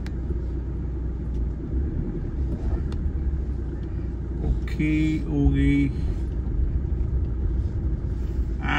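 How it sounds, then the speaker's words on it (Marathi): A car driving onto a beach in Sindhudurg on the Malvan coast, its low engine rumble steady and near throughout, with a brief spoken remark partway through. "गाडी बीचवर घेऊन चालला."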